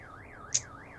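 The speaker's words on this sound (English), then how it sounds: "An obnoxious noise suddenly breaks the silence. Is that a car alarm? Sure sounds like it." A car alarm in the video game Doki Doki Vigilante warbles up and down in a steady, wavering siren tone, clear and alone, with one brief sharp chirp in the middle.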